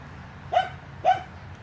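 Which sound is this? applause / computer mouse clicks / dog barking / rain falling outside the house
dog barking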